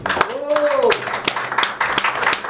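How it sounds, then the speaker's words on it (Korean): Scattered hand claps from a gathered crowd at a live political broadcast ring out in uneven bursts, mixed with a speaking voice that runs over them. "박수로 좀 격려해 주시면 좋겠습니다"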